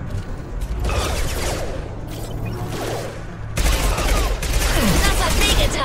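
Weapon fire in the shooter game Mass Effect 2, with bursts of rapid automatic gunfire rattling in clusters, cutting out briefly and then returning louder and denser near the end.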